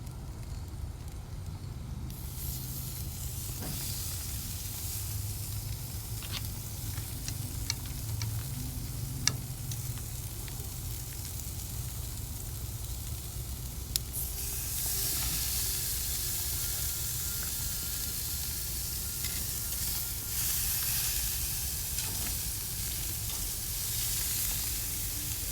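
Steak sizzling on a hot, high-heat gas grill: a steady, close hiss with a broad, bright crackle that runs continuously for the whole stretch and swells a little louder partway through, with a few faint clicks and no talking.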